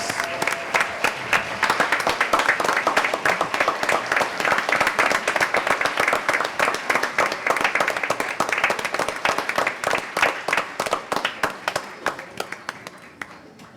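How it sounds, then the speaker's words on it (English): Audience at a school district board meeting applauds the parents and family members, a dense, steady round of clapping that holds for over ten seconds before thinning out and tapering toward the end. "Let's give all our parents a big round of applause."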